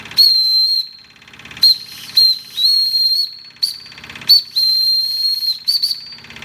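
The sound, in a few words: model steam engine whistle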